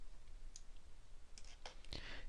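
A computer mouse gives a few faint, sharp clicks over a steady low background hiss in a quiet room.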